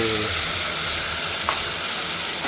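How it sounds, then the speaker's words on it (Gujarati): Fenugreek and garlic sizzle in hot oil as a tempering for a papdi dish, a loud, steady frying hiss close by with a faint stir partway through and no talk. "મેથીની ને લસણની વઘાર કરી નાખો તો"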